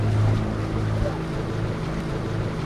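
A boat carrying around sixty locals moves over shallow water, a continuous low engine rumble under wind and water wash, steady and fairly close.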